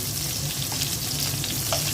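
Blended tomato goes into hot oil left over from frying fish, producing a loud, dense, continuous sizzle with faint stirring underneath, heard close up and with no voices.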